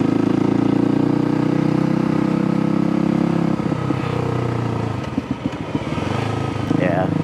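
Kawasaki KLX250 dirt bike with a 331cc big bore kit, its engine droning steadily up close before easing off, with revs and gear changes as it rides off.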